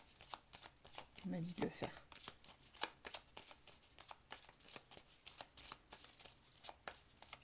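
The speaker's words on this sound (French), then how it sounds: "je vais un petit peu remélanger les cartes." Oracle cards being reshuffled by hand, a rapid run of soft papery flicks and riffles close to the mic, while someone talks quietly over them.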